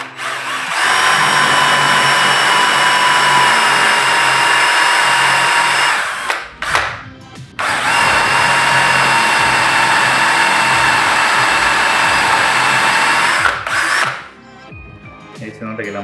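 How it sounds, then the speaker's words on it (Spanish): A power drill bores into green wood at the centre of a timber for conduit in an urban garden microtunnel build, running in two long, loud, steady whines separated by a brief pause, with a short burst of talk at the end. "vamos a perforar y perforar en el centro"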